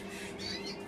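Caged birds, likely canaries, squawk faintly and briefly, a couple of short shrill calls over a constant background hum.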